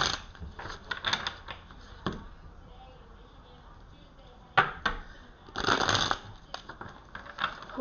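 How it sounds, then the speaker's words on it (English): Oracle cards being shuffled in several quick riffling bursts separated by quiet pauses, close and fairly soft. "I'm going to put the camera down so you can see me shuffling."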